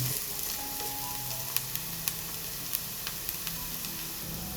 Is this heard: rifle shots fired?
no